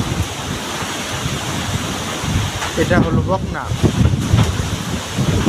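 Storm gusting around a cattle shed, with blustery wind rushing and roaring in loud bursts while a voice speaks briefly over it.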